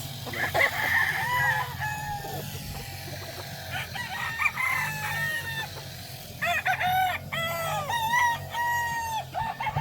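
Several young local roosters (stags) crow repeatedly on a farm, their calls overlapping and rising loudly in the second half, with clucking and a steady low background hum throughout.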